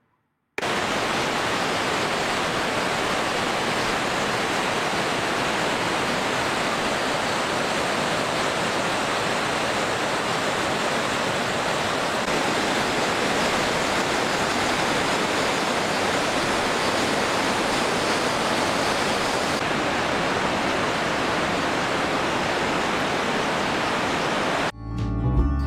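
The Kepler Cascades waterfall in Yellowstone roars steadily from nearby, a loud, unbroken rush of falling water that holds for the whole stretch with no voices.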